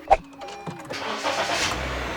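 Push-button start of a 2016 Honda BR-V 1.5 SV: a sharp click, then the engine cranks and catches into a steady close idle with no talk over it.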